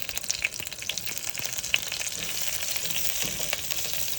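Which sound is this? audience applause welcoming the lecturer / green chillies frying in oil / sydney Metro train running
green chillies frying in oil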